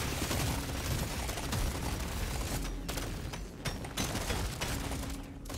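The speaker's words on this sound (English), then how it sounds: "Let's shoot through." Rapid, continuous gunfire from the video game Deep Rock Galactic: Survivor, a dense fusillade of shots with intermittent booms and mechanical clatter running steadily throughout, loud and without talk.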